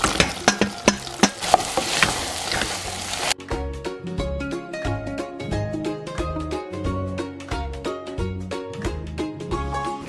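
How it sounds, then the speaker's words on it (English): Gnocchi, pesto and pine nuts are stirred in a pan with a spoon, giving sharp scraping and clattering strokes and then a steady, busy rhythmic clatter close by. "Stir it through quickly and then add the gnocchi."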